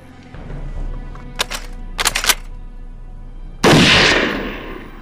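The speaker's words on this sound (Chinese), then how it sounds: "他们开枪了，" Gunfire in a war film about Japanese troops and Eighth Route Army fighters in a jungle: a few sharp rattling shot bursts, then a loud blast-like crack that decays slowly, against quiet background rumble.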